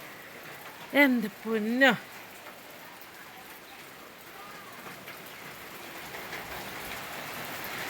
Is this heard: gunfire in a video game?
no